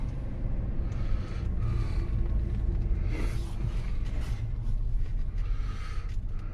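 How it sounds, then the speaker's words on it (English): A car with a tire-pressure warning light on rolls slowly down a residential street, heard from inside as a steady, even low rumble of road and engine noise with no talking. "So we're going to take it for a quick little spin down the street."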